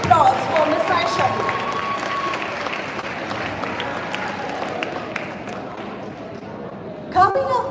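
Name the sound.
audience applause for teacher at prize day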